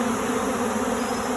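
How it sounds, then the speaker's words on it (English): Honey bees trapped in a hive box after a bear attack on the hives: dense, steady droning buzz of many bees up close, continuous and unbroken, with no talking. "the home bees are stuck in the box"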